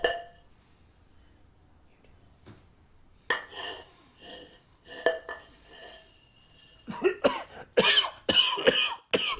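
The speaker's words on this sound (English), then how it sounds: "That's a nasty cough, old chap" Several harsh coughs, a man's in an audio drama, come in a cluster near the end after quiet clinks and rustling, loud and close.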